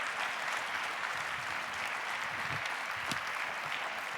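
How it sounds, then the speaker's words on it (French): At the close of a congress, a large audience applauds in a continuous, even wash of clapping heard from a distance, steady and unbroken throughout. "Donc je crois qu'on peut vous applaudir."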